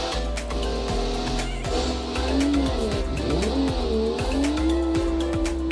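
Racing video game car lapping a track in an executive-car series, engine droning steadily with rising and falling pitch as tires squeal and scrape through corners, loud and continuous with no talking.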